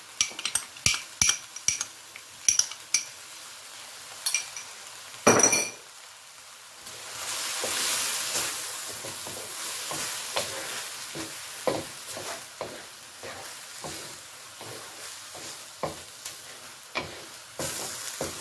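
Sauce for PF Chang style lettuce wrap filling hits a hot pan with a burst of sizzling, then steady frying hiss under repeated clinks and scrapes of a utensil stirring against the pan, no talk.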